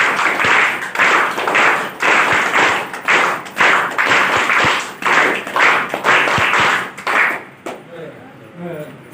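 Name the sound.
applause welcoming a visiting guest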